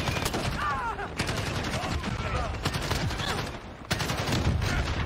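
Rapid, loud video-game gunfire from Modern Warfare on the Shipment map: bursts of automatic shots and single cracks in a dense firefight, with a voice talking underneath.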